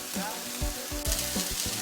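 Eggplant pieces and hot red Sicilian chilli sizzle steadily in a frying pan while being browned, with a constant crackle and a few louder stirring scrapes, close up and with no voices.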